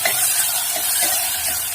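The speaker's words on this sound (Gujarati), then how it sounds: "ધીમો ગેસ રાખીને સારી રીતે એને સાંતળી લઈશું" Washed mung and masoor dal sautéing in a pan over a low gas flame, giving a steady soft sizzle and hiss with faint stirring scrapes, close and continuous with no voices.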